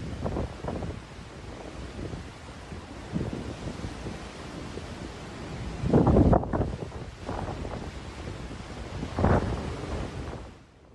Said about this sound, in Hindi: तेज हवाओं के साथ पानी उड़ता दिखा।